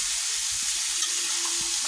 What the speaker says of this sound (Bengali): মশলা কষে ফেলছি।